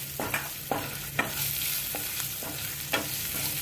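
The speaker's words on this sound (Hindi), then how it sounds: "इसको बिल्कुल हल्का सा सौते करना है, ज्यादा नहीं करना।" Garlic cloves and julienned ginger sautéing lightly in a pan for a Rajasthani malai onion sabzi give a steady close sizzle, with several sharp stirring scrapes and knocks of a spoon spread through it.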